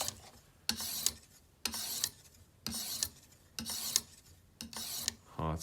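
A Japanese Nejiri weeding sickle is sharpened on a TSPROF sharpening system with five or six long, even rasping strokes, each separated by a short pause, close and fairly crisp.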